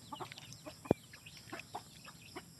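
Chickens cluck in short scattered bursts, with one loud, sharp squawk standing out partway through.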